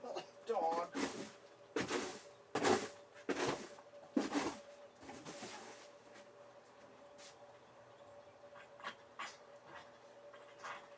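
Dog panting in a barn, quick bursts of breathy huffing in irregular bunches at close range, with a person speaking intermittently and faint bird cooing in the background.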